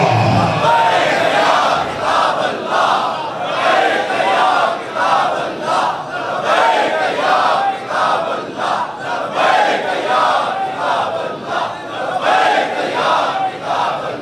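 A large congregation at a Muharram majlis loudly chants a religious slogan in unison. The short shouts repeat in a steady rhythm, filling the hall for the whole stretch.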